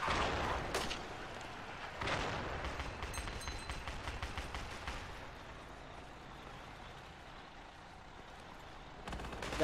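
Mortar fire in the military shooter Project Reality, with heavy booming blasts near the start and end and a stretch of rapid crackling fire between them over a low rumble, with almost no talk.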